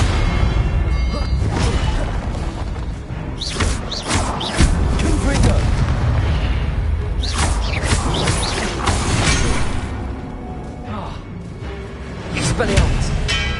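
Expelliarmus spell combat in Hogwarts Legacy, with loud booming magical blasts and crashing impacts recurring through a busy fight, while a voice speaks over the action.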